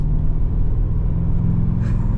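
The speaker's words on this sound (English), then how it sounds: "the 3800 is a great engine" A Holden VX Berlina wagon with a 3800 engine runs at a steady, even idle, giving a continuous low rumble close by with no talking over it.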